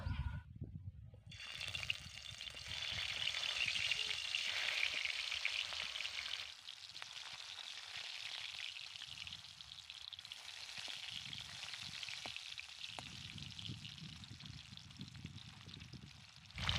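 Fish fry in hot oil with a continuous crackling sizzle that stays steady and fairly close, with a few low clunks underneath and no talking.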